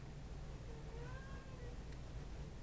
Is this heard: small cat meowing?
yes